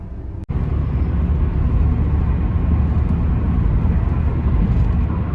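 Steady, loud road noise from a car on a patchy, repaired road heading to a forest, a continuous engine and tyre rumble that starts after a brief cut and carries on without talk.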